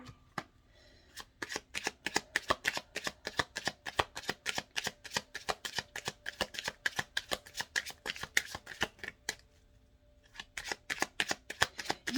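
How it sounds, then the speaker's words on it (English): Tarot cards being shuffled by hand, a fast run of crisp riffling flutters in repeated bursts with short pauses, close and fairly quiet. "Let me shuffle these, get that energy out, please."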